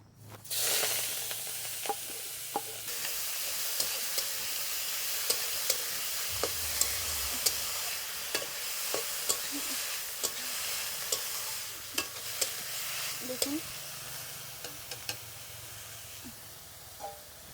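Chopped bele shak greens with chilli fry in hot oil, a soft, continuous sizzle and hiss broken by regular sharp clicks of a spatula stirring the pan.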